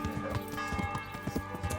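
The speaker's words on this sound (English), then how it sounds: "Let's call our horse." Horse hooves in the medieval game Kingdom Come: Deliverance clop in a quick, rhythmic run, each strike distinct against a steady background of game ambience at moderate loudness.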